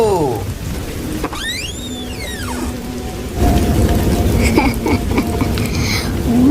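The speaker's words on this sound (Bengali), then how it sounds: "শুধু ঝড় বৃষ্টি আর বিদ্যুৎ চমকানোর আওয়াজ শোনা যাচ্ছে।" Cartoon storm sound effect with steady heavy rain and rumbling thunder that swells partway through, plus a short sweeping whistle-like tone over the downpour; no talk.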